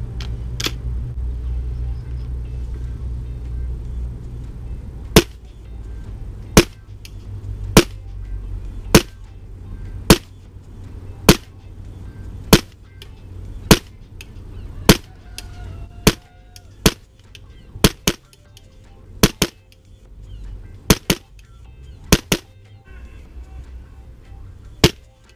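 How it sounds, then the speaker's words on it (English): A Tokyo Marui M4 MWS gas blowback airsoft rifle fires about twenty sharp, clacking single shots at a target 25 meters away, spaced roughly a second apart, over a low outdoor rumble. "this is on a Tokyo Marui M4 MWS gas blowback rifle, and we're just going to be hitting the target at 25 meters"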